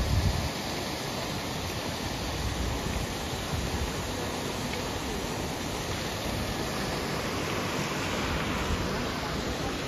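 Water rushing steadily beside a trekking trail in Meghalaya near the double decker root bridge, a dense, even roar of flowing stream filling the whole stretch without pause.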